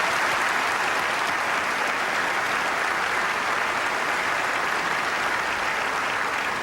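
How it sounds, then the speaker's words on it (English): Sustained applause from a large banquet audience honoring a NASCAR Winston Cup champion, dense and even clapping that fills the whole stretch with no break. "offer a round of applause for this great champion"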